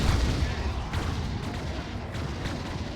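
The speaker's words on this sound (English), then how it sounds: "that's the Dark Creepers firing their Swarm Launcher" Dark Creepers fire their Swarm Launcher in a Dawn of War 2 battle, a muffled volley of thudding booms and rumbling blasts rolling continuously through the short stretch.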